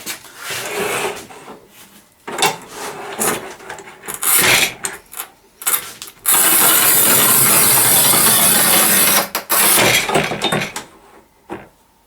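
A manual Shijing tile cutter scores thick porcelain stoneware tile up close, producing short scraping strokes and knocks, then a sustained gritty rasp as the wheel runs across the surface, followed by a few clacks.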